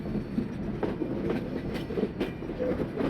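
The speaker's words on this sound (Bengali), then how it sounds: "কোটচাঁদপুর থেকে চিত্রা এক্সপ্রেসে উঠে পড়েছি।" Chitra Express passenger train running after boarding at Kotchandpur, Bangladesh, heard from on board as a steady, close rumble with rhythmic wheel clatter and rail noise throughout, and no talking.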